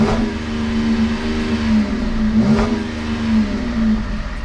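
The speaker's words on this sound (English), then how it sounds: "we'll give it a little bit of a rev" A car engine revs at a car auction. It is close and steady, with a pitch that rises and falls through a couple of short revs and no talk.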